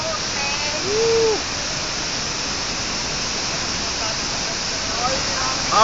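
A waterfall roars as a steady, loud broadband wash throughout, with a short whoop-like voice rising briefly near the start and slight swells at the end.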